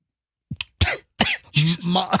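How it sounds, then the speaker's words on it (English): A short burst of coughing, three or four rough, throaty hacks in quick succession, close and loud. "I'm laughing. I'm coughing."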